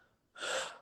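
A single sharp, forceful breath drawn in after an intense fighting round, showing heavy exercise breathing; one loud, close, breathy gasp that follows a faint lead-in and then fades out.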